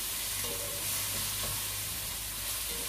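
Ground beef fries in a pan with spaghetti sauce ingredients being added, giving a steady, close sizzle with soft stirring scrapes throughout and no voices.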